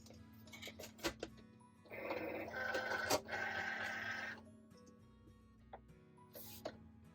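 A Cricut Explore Air 2 cutting machine cuts out an image, with a steady mechanical whir and buzz for a couple of seconds between softer clicks and ticks.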